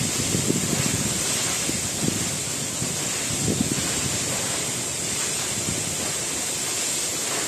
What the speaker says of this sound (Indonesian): Ini namanya Coban Rondo atau air terjun Coban Rondo ini.